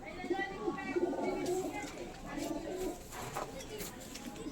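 Pigeons, including Madras birds, at a home loft: soft cooing runs steadily throughout, close by, with someone talking over it.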